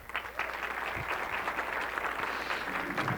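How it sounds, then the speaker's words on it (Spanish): An evening audience welcomes guest Álvaro Restrepo with sustained applause, steady and fairly loud, the clapping filling the room without any voice on top. "quiero pedirles por favor que recibamos con un fuerte aplauso al invitado de esta noche, el maestro Álvaro Restrepo"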